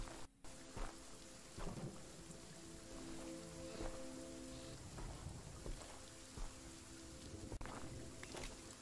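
Steady rain and rumbling thunder in the horror video game Visage, a continuous downpour at moderate level with several soft rolls and thuds, heard alone without voices.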